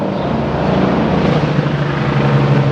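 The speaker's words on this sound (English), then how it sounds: "Sorry about the helicopter, there must be some type of activity in the neighborhood." A steady, loud rotor drone with a low throbbing hum fills the whole stretch, like a helicopter passing close overhead.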